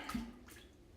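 Brief splash of running water rinsing off soap, steady soft rush from a tap or shower, no talking.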